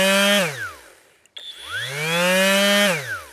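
A Flex orbital sander spins up loud and close, whines steadily, winds down to a brief stop, then starts again and runs at full speed before slowing once more.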